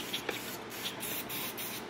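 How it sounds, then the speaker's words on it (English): Electrical contact cleaner is sprayed from an aerosol can onto the DME engine computer connector contacts of a BMW E39 530i, producing a steady close hiss that lasts throughout, with no talking. "we're just gonna spray down those contacts and hope we're doing something"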